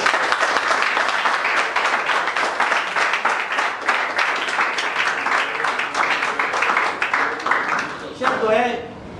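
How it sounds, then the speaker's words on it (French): Loud applause from a political rally crowd of the MLC party in Congo, many hands clapping hard in a sustained dense roar for about eight seconds, then fading as a voice speaks near the end. "Et je vous demande de les applaudir très très fort."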